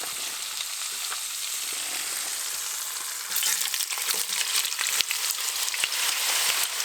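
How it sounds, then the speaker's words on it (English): Fries sizzle and crackle in hot oil at a winter camp during a snowstorm, a dense continuous hiss that grows louder and busier partway through, with scattered sharp pops. "I got the fries going."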